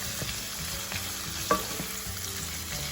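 Shrimp fry in a pan for shrimp tacos, a continuous close sizzle with a few light scrapes and taps of a utensil stirring, no voices.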